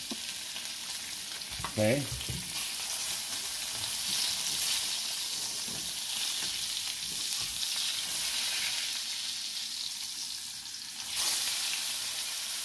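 Salmon pan-searing in generous unsalted butter over lowered heat gives a steady, close sizzle and crackle throughout, with a brief spoken word early on.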